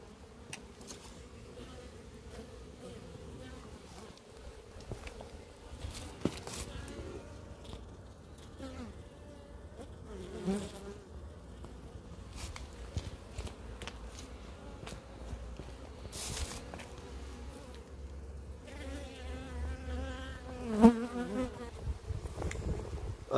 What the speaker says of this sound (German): Gibt es eine vernünftige Erklärung dafür, dass die Bienen am 10. Dezember noch so aktiv sind?